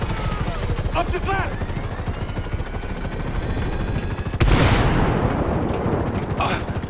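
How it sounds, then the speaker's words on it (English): Game helicopter in GTA 5 thudding steadily overhead through a chaotic firefight, its rotor drone mixed with gunfire bursts and a sharp boom partway through, with voices shouting over it. "We ain't going nowhere with that chopper."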